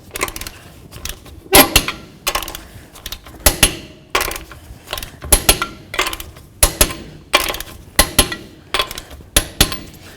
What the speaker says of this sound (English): Let's torque these lug nuts down with our 21mm socket to 83 foot-pounds.